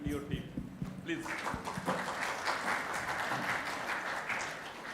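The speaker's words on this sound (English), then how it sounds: "a big hand of applause to you and your team" Conference attendees applaud the organizers; clapping builds after a moment of talk and thuds, then continues as a moderate, fairly quiet round with voices underneath.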